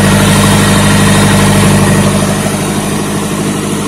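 A turbocharged Toyota 1NZ-FE engine fitted in a Lada idles loudly and close by, a steady rumbling drone with a slight throb and no voices.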